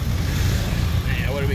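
A Ford Model T engine gives a short burst of steady, rumbling running noise, picking up slightly as the throttle is brought up, with a voice faintly present toward the end.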